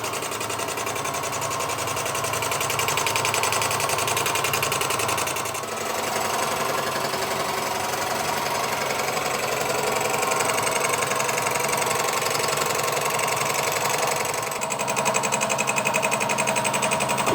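A milling machine cuts an inlet manifold, giving a steady, loud mechanical whir with a fine buzzing chatter that runs unbroken, with brief dips around the middle and near the end.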